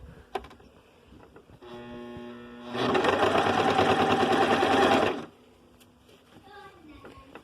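A sewing machine runs steadily for a couple of seconds, stitching soft fabric for a toddler's pants with elastic cuffs, close and loud, with quieter handling before and after.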